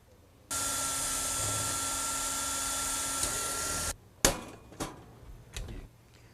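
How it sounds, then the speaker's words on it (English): Drilling and riveting on an aluminium greenhouse frame, a Sunglo Model 1000C: a steady, close drill whine runs for about three seconds, then stops, followed by three or four sharp separate snaps from the rivet tool. "we can drill and rivet that."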